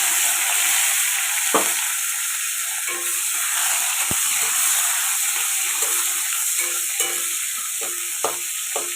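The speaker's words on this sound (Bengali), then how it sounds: "পেঁয়াজটা আমার ভাজা ভাজা হয়ে এসছে লাল লাল হয়ে এসছে" Chopped onions, green chillies and panch phoron sizzle steadily in a pan of hot oil, a continuous close frying hiss broken by occasional sharp pops and stirring scrapes.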